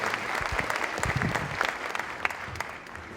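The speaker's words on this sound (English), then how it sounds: "A round of applause for our elected officials." An audience at a public meeting on the opioid and heroin epidemic gives a brief round of applause for elected officials, moderate clapping that tapers slightly near the end.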